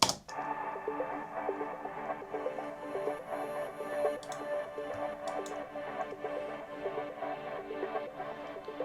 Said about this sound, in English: So the ambient pads part sounds like this.